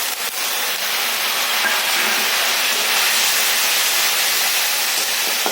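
Water poured into a hot pan of fried spices and oil while cooking a potato dish, producing a loud, continuous hissing sizzle that holds steady throughout at close range, with no voices.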